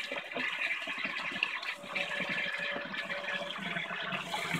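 Water sprays steadily through a head of broccoli used as a makeshift shower head in a wilderness shower, a continuous hissing gush at close range with no talking.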